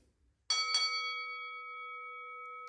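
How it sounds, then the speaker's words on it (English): A single loud bell strike on an old fairground strength tester at a carnival, two quick hits then a long clear ringing tone that decays slowly, heard alone after near silence. "you have to be the only lady who's hit the bell on that old strength tester all day"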